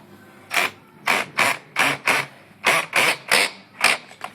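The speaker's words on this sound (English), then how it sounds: "And you get the screw gun, the little trusty screw that didn't want to work." A screw gun drives a screw into a concrete surface in about nine short, evenly spaced bursts of whirring, loud and close, with no talking.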